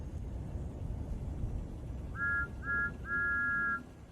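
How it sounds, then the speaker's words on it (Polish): Three shrill steam locomotive whistle toots, two short and one longer, sound over a low, steady background rumble. "To gwizdek Tomka."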